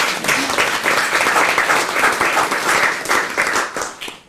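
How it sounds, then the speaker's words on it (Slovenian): Loud audience applause for a speaker at a talk about women managers, many hands clapping in a busy, sustained burst that fades at the close. "En velik aplavz za našo Saro."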